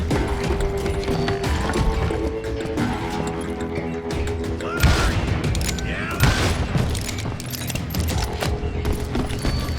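Gunfire in the Western video game Call of Juarez, a loud close fusillade of overlapping shots and heavy booms with mechanical clatter, layered under game sound and brief voices.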